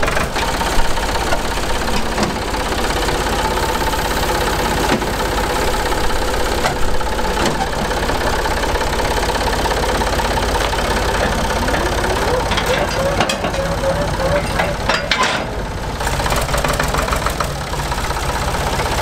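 A Ford 4000 farm tractor engine runs continuously, a steady mid-to-low knocking diesel rumble close by, with some people talking over it and occasional clunks.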